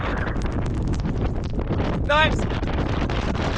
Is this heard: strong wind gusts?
yes